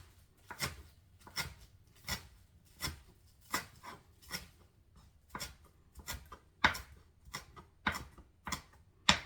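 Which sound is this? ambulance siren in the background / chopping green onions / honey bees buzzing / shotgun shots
chopping green onions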